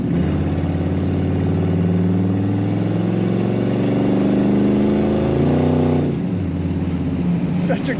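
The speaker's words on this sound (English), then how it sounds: "Such a great sound to this car as well." A 1959 Chevrolet Impala four-door flat top with a swapped LS engine idles and revs nearby, a deep, rumbling burble that builds, then drops off near the end.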